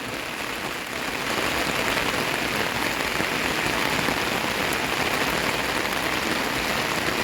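Steady rain pours down at Wat Pa Dong Nong Tan temple in Udon Thani, Thailand, a dense hiss of drops hitting a surface, constant and fairly close throughout.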